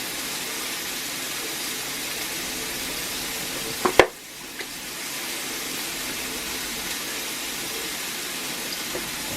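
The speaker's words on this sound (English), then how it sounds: "while I'm waiting for my burger to cook" Bacon cheeseburger patties frying in a pan, a steady close sizzle with a brief clatter and dip partway through before the crackling resumes.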